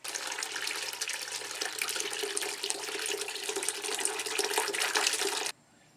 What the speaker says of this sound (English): the wax and the water will drain through the shirt